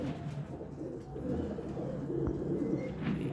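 Pigeons in a home breeding setup, including blue, green and apple-marked birds, give low soft cooing calls that murmur continuously close by with no talk over them.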